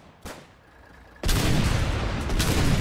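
Gunfire in the war game Foxhole: a faint early shot, then a sudden loud blast that rolls into sustained heavy firing and rumbling explosions, close and dense, with no voices.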